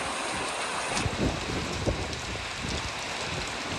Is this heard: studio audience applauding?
no